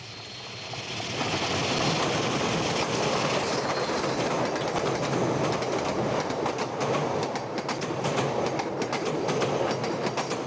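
A steam train runs fast on the main line under electric wires toward Auckland, New Zealand, a loud, steady roar with rhythmic clickety-clack of wheels on rail joints, building up within the first second and holding close throughout.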